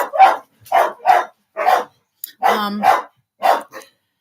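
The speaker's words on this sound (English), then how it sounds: "dogs are going crazy" Agitated pet dogs barking indoors in separate sharp bursts, about seven or eight close barks with short gaps between them, one with a growly, rougher tone.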